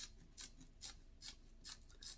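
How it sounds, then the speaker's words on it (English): Scissors snip table tennis rubber along a blade's edge in quick, even, crisp cuts, about five close strokes, faint and with no talk. "Make sure the scissors is cutting along the edge of the blade."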